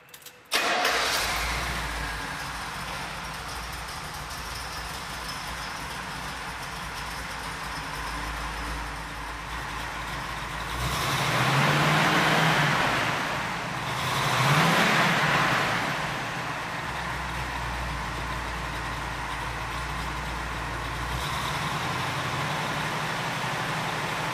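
A 1969 Pontiac Firebird Trans Am muscle car engine cranks and fires, then settles into a loud, rumbling idle with two revs swelling midway before dropping back to a steady throb, close and alone.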